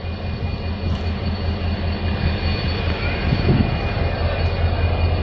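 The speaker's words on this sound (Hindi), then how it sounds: "जबलपुर वेरावल एक्सप्रेस ट्रेन की लोको की बात करें तो साबरमती डीजल लोको सेट का WDP4D लोकोमोटिव लगा हुआ था।" A WDP4D EMD diesel locomotive hauls the Jabalpur–Veraval Express, heard as a continuous heavy rumble of engine and running train that stays steady and fairly loud throughout the short stretch.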